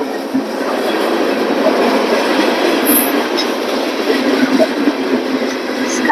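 A CSX freight train with a CEFX leased DPU locomotive rolling past close by, a steady loud roar of wheels and cars with faint clatter throughout.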